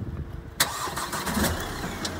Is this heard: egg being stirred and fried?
no